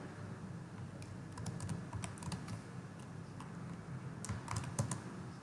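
Rapid, irregular clicking of keys on a computer keyboard as Python code is typed, close and steady throughout with brief pauses and no talk.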